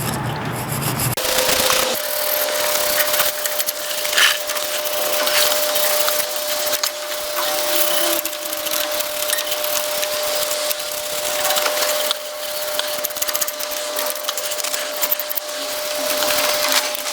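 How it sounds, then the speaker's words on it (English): Bearing surfaces on a CUCV M1008 truck drive shaft are scrubbed with a steady, close, abrasive rubbing that runs unbroken for the whole stretch, over a faint constant hum. "I'm gonna scrub it all down"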